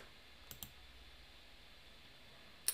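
Computer mouse clicks in a quiet room, two quick soft clicks close together near the start and one sharper click at the very end, over a faint steady hiss and no talking.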